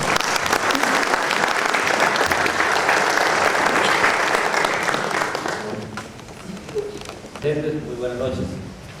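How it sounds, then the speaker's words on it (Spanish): Loud applause welcomes a guest lecturer to a talk on rainwater harvesting and desertification at a departmental hall, dense clapping that fades after about six seconds into a lone speaking voice. "Lo recibimos, por favor, un fuerte aplauso."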